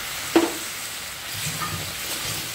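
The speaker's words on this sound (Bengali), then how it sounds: "তো চলো আরেকটু সামান্য জল দিয়ে দিই" Water splashes into a pan of sizzling paneer do pyaza masala with cashew paste, a sharp hiss at the start settling into soft, steady sizzling and occasional stirring.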